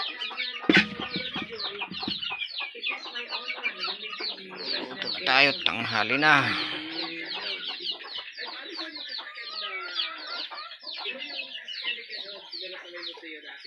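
Labuyo chickens cluck and call steadily around a farm, with a busy chorus of bird calls throughout and a louder burst near the middle; people talk over the birds.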